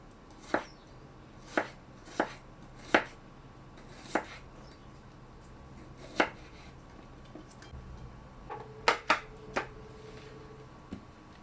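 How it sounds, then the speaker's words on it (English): A knife slicing white onions on a cutting board, about a dozen crisp, separate taps at an uneven pace, close and clear with a quiet room behind them and no voices. "slice your white onions"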